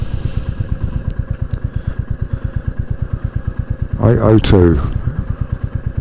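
A Royal Enfield Classic 350 motorcycle idling nearby with a steady, even single-cylinder thump throughout, while someone speaks briefly over it partway through.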